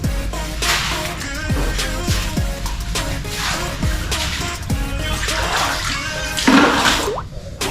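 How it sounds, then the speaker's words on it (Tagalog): Water splashed and poured across a floor while a house is cleaned of mud after a severe flood, a steady broad wash with repeated sharp splashes and knocks throughout and a louder burst near the end. "At pagkatapos, bubuhosan natin ng tubig."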